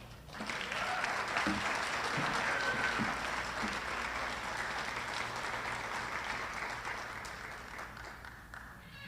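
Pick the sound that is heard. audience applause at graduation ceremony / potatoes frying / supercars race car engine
audience applause at graduation ceremony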